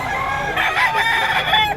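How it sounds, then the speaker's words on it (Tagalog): A rooster crows once at a Filipino chicken seller's stall, a fairly close, moderately loud call lasting under two seconds. "Ayun, may manok yan."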